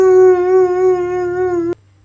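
A dog howls in one steady, sustained tone close to the listener, then stops abruptly.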